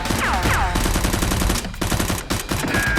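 Toy Nerf guns fire in a staged fight, a dense, continuous clatter of rapid shots layered with whooshing and sliding tones, loud and busy throughout.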